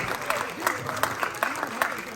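Applause from a theatre audience in a USA cinema at a Tamil film promotion, a dense patter of many hands clapping with rhythmic peaks, mixed with a voice talking over it.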